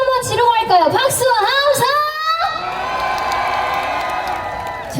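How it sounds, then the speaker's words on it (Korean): A festival crowd at an outdoor concert in Daegu shouts and whoops in a loud, sustained cheer with clapping mixed in, after an amplified voice speaks at the start. "자, 우리 함성 한번 지르고 할까요?"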